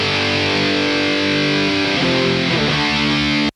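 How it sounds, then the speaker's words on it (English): An electric guitar through a harmonic distortion box rings out sustained, buzzing chords, loud and saturated, shifting to a new chord partway through before cutting off. "It's like a harmonic distortion box, but it's super flexible."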